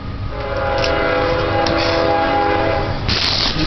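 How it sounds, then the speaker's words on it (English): Train passing close by with a steady rumble and a long, sustained horn blast, heard from beside the tracks during a bike ride, with no talking. "Okay, here comes the train."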